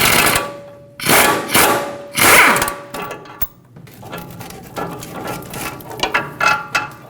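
Ratchet wrench turning off the strut mounting nut on a 2007-2017 Ford Expedition front suspension, a series of loud, close, rapid clicking bursts with short pauses, then quieter, steady ratcheting clicks continuing to the end.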